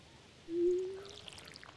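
A watering can tips over crops on a Stardew Valley farm: one short sliding pour tone that rises into a scatter of faint, sparkly chimes, then fades, with no talk.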